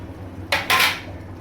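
Cooking oil tipped from a plate into a pan of king prawn malai curry, heard as two quick clattering, hissing bursts of metal and plate contact, close and fairly loud against a quiet kitchen.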